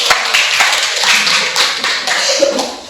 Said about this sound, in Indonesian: Oke, baik, berikan aplaus